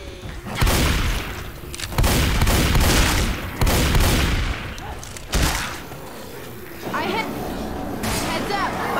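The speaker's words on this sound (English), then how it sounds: "Everyone shoot the tank!" Several players fire on the Tank in the co-op game Left 4 Dead 2, with loud, dense bursts of gunfire and heavy booms coming in waves across the stretch, mixed with game noise and some voices.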